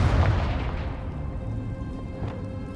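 A Confringo explosion spell cast in Hogwarts Legacy: a single heavy boom hits at once, then rolls off into a long, fading rumble with no talking.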